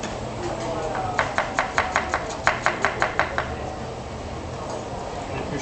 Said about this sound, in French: On émince l'oignon nouveau.